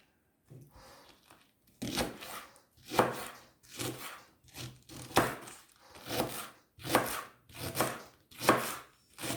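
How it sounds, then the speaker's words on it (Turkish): A knife chops through leeks on a board in steady, repeated strokes, about nine crisp cuts, close and clear with no talking. "Pırasamı da doğrayayım."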